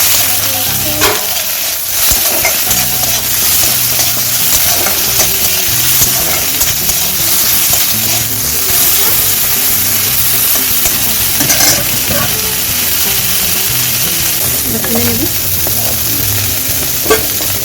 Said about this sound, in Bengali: চিংড়িগুলোকে দিয়ে দিচ্ছি, একটু লাল লাল করে ভেজে নেব।